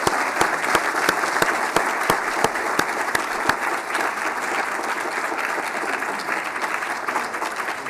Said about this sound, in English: applause for Don.